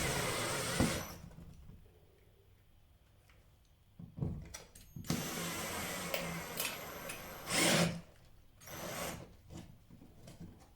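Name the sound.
fitting a plasterboard plug for an Ikea kitchen cabinet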